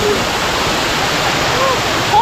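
A roaring waterfall on the way to a valley village, loud, continuous rushing water filling the whole clip with little variation.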